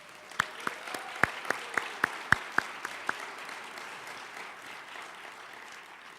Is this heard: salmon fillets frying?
no